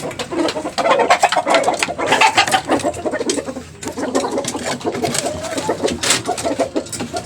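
Chickens cluck and murmur nearby in a run of close, busy calls, with faint background noise and no talking.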